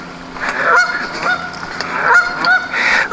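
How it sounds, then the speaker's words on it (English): Geese at a shallow pond give loud, close, repeated nasal honks in several overlapping bursts, with no other sounds competing. "Those geese are mad at me."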